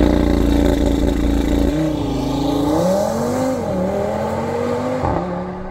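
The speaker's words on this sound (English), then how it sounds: "Have you ever heard a Volkswagen sound like this?" An Audi RS3's engine revs loud and close, a sustained roar that rises and dips through several rev swells before easing off, with no talking.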